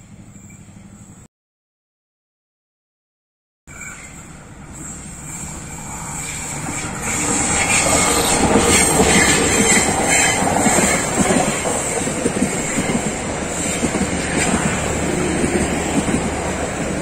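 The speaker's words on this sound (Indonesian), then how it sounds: "keluar melintas kereta api Pasundan dengan tujuan akhir Surabaya Gubeng" The Pasundan passenger train, bound for Surabaya Gubeng, comes out of a curve near Manonjaya and passes close by, a rumbling roar that builds into a loud, steady clatter of wheels on rail after a brief gap of silence.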